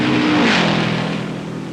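A 1957 Indianapolis 500 race car screams down the main straightaway alone, its loud, near engine roar dropping in pitch as it sweeps past, with no talk over it.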